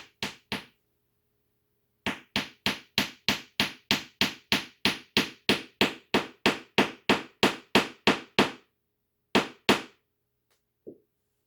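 A hammer strikes during assembly of an IKEA cabinet, sharp, loud, evenly spaced blows: two quick hits, a pause, then a fast steady run of about twenty strikes, a short gap, two more and a faint final tap.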